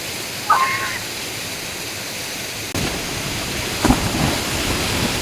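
A river's steady broadband rush of flowing water fills the scene near a village swimming spot, with a couple of brief knocks and splashes breaking through the continuous wash.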